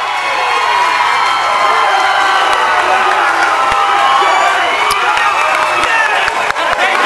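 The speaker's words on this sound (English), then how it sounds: "Quiet for so long, the Westminster crowd finally on their feet." A Westminster Christian crowd at a high school baseball state semifinal cheers and whoops loudly and continuously, with shouting voices and scattered claps filling the whole stretch.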